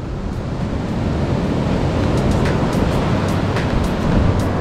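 Ocean waves break on a beach at the Marianne River in Trinidad, a loud, continuous wash of surf mixed with wind buffeting the microphone, with a few brief higher splashes.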